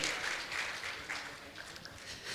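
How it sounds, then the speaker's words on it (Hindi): Applause from an audience at a Jain religious gathering honouring a donor family, a soft, fairly distant patter of clapping that stays steady without voices. "उनके परिवार के लिए भी जोरदार ताली बजाकर इनका सम्मान करें।"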